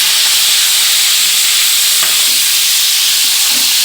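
Spices frying in a pan are stirred through a steady, loud sizzling hiss, with a few faint scraping touches and no voices.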